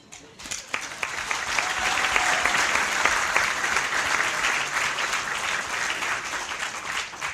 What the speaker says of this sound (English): They are special, and we should applaud them.